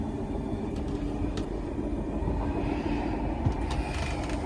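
Steady low rumble and rattling hum inside a moving Eurostar high-speed train bound for Paris Nord, continuous and fairly loud throughout with faint clicks above.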